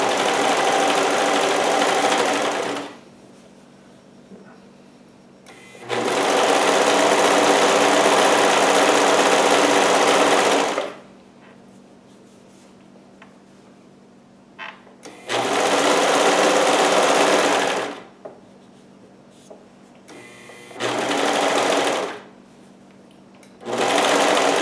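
A sewing machine stitches and trims fabric for an aloha Hawaiian shirt in a series of loud, steady whirring runs, each lasting a few seconds, separated by quiet pauses.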